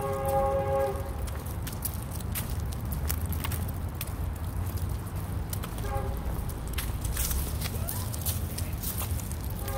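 A train rolling past with a steady, loud rumble of wheels and cars, its horn sounding in a short blast at the start and again faintly later, heard outdoors without talk.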